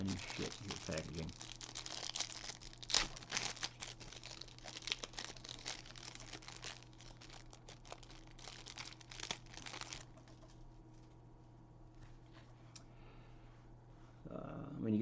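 Marvel Secret Lair card packaging is torn open and handled, giving a steady run of close, crisp crinkling and tearing plastic with scattered clicks, fading to quieter handling near the end.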